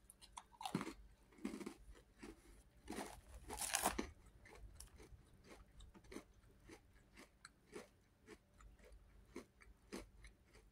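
Oreo cookie chewed close up, a series of soft crunchy bites and repeated chewing in an uneven rhythm, fairly quiet with no talk.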